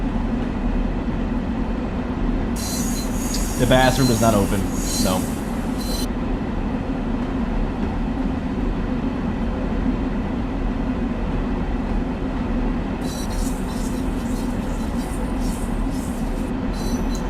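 A passenger train in the Train Sim World 6 game, running from New York City to Stamford, rumbles steadily throughout with a constant low drone and faint rail noise, while a voice speaks briefly early on.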